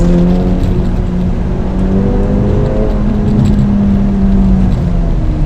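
A 2025 Acura Integra Type S, front-wheel drive, runs steadily up mountain switchbacks with a loud, continuous engine drone and road roar filling the cabin, holding an even note without any talking.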